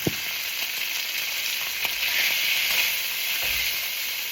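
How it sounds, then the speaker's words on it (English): Food frying in a hot pan gives a steady, close sizzle with a constant bright hiss throughout, a few faint clicks and stirring sounds, and no voices. "if your food not sizzling like this"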